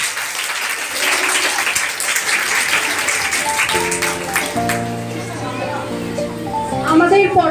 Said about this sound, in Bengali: সবার জন্য একটা জোরে হাততালি হয়ে যাক